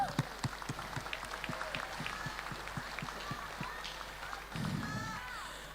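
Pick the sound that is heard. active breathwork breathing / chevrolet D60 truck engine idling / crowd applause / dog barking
crowd applause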